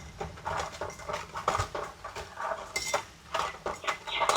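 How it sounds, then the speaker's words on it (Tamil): Metal utensil scrapes and clinks against a pot while stirring an ice cream mixture, repeated rhythmic taps and scrapes, fairly faint, without talk. "நல்லா கிண்டிக்கிட்டே இருக்கணும்."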